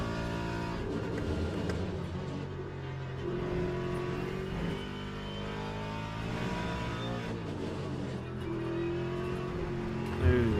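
Race car engines in the sim racing game Le Mans Ultimate, including McLarens, drone steadily at high revs throughout, with shifting pitch as cars accelerate and brake, plus a brief louder burst near the end.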